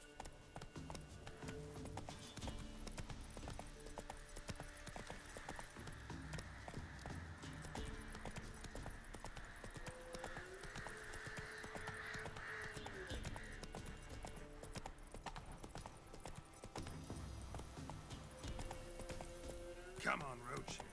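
Hooves of Roach, a horse in The Witcher 3, clip-clopping steadily beneath game music and a voice talking over them, with a brief whinny near the end.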